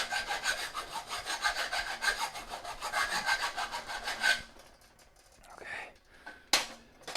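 Hacksaw burr being rubbed and filed off metal in a home garage workshop, a steady rasping scrape for about four seconds, then quieter scattered scrapes and a sharp brief knock near the end.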